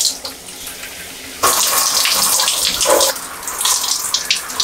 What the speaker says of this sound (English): I'm just going to rinse the hair cleanser out